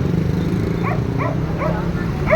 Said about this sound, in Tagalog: Tahol siya ng tahol